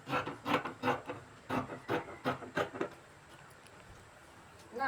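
Scissors cutting through fabric for a bubu dress, giving a series of about eight rhythmic, close-up crunching snips over three seconds, followed by quiet rustling.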